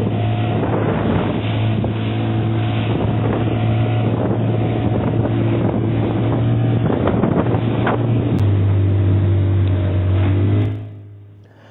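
A fishing boat's engine drones steadily while heading out to sea, a loud, constant low hum with wind buffeting the microphone, rising slightly in pitch near the end before cutting away.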